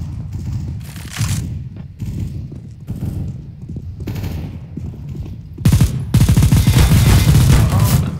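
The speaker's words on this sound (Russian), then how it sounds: "Все он в меня стреляет." Bursts of automatic gunfire from a CS:GO match, rapid loud volleys in several separate runs that grow denser and heavier toward the end, with no talk over them.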